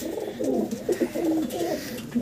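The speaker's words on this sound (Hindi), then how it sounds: "ये देखें सभी कबूतरों को मार रहा है जो भी इसके पास आ रहा है।" Pet pigeons coo loudly and repeatedly at close range in a steady, throaty rolling rhythm, with agitated bursts as one bird attacks others nearby; no one talks.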